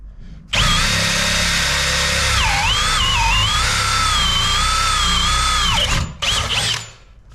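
A Milwaukee M18 cordless drill on a fully charged battery at speed 2 whirs up to a high, steady whine, its pitch dipping and recovering as it bites, then cuts out with a few short bursts.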